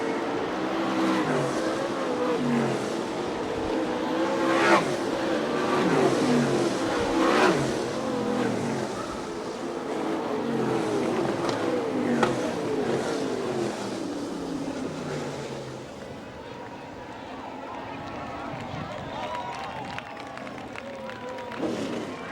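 Sprint race cars roar around the dirt oval at Fremont Speedway in Ohio during an All Star Circuit of Champions race, engines revving and passing repeatedly, loud and steady under an announcer's commentary and crowd noise.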